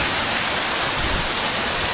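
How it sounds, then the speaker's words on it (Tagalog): Waterfall near Puerto Princesa, Palawan, roaring steadily up close as a dense, unbroken rush of falling water with no voices. "Akyat dito sa bagsakan mismo ng tubig."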